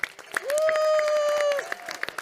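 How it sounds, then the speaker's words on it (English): An audience at the Great Dunmow Flitch Trials applauds Helen with a burst of clapping from a crowd, and a long sustained whistle or cheer rises over the claps through the middle. "can we all give a big round of applause again for Helen for bringing us all together?"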